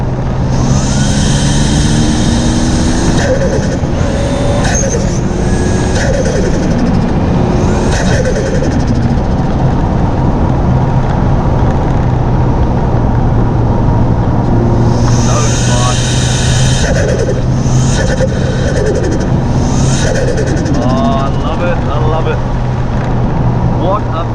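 A Toyota Chaser launches hard from an intersection, its engine note loud and close as it pulls through the gears with a long rising, sustained roar, while a person talks over it.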